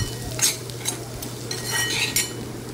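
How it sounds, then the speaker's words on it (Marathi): Ghati masala spices sautéed with onions in a pan for sandgyachi rassa bhaji, a spoon scraping and stirring in repeated strokes over a soft steady sizzle with a low hum underneath, close and without talk. "आता हे मसाले आपण व्यवस्थित कांद्यासोबत परतून घ्यायचे आहेत।"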